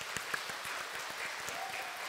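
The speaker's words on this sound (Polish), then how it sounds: "Jeszcze raz poproszę o test oklasków." A room of preschool children claps together during an applause test at a chamber concert, a dense, steady patter of many small hands, fairly quiet and even throughout.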